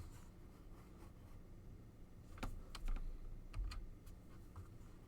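Coordinates being typed on a computer keyboard, a handful of faint, quick key clicks in a short cluster near the middle and end, with a soft background hiss.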